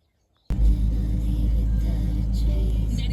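A car engine starts suddenly after brief silence and runs loud and close with a steady low rumble as the car is driven, holding level to the end.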